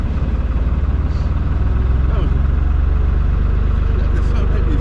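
An old Lister diesel engine on a canal boat near locks chugs steadily with a fast, even low thump, loud and close, while people talk over it.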